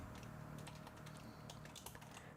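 Rapid clicking of a computer keyboard set to Japanese input mode, a quiet stream of close keystrokes with irregular bursts over a steady room hum and no voices.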